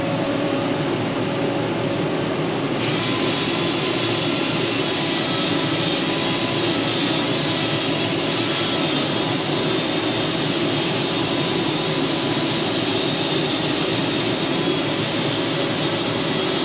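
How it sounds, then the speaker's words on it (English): A workshop spot exhaust fan system runs in a loud, steady roar, switching on with a jump in level in the first few seconds and then droning evenly throughout with no talk. "I like to run my spot exhaust system to wherever I'm working"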